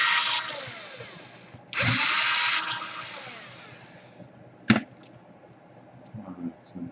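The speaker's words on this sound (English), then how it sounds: "I want to unscrew the fans just in case." Small power tool or electric screwdriver whirring in short bursts while unscrewing the fans inside an Acer Aspire S7 laptop, close and fairly loud, with a sharp click and light handling noises between runs.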